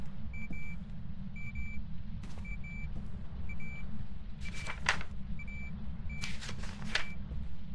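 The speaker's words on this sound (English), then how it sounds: "you hear that beeping from that? That was EMF-5." An EMF level 5 reader in the Phasmophobia ghost-hunting game gives short repeated electronic beeps over a steady low ambient rumble, with a few sharper bursts of game noise in between.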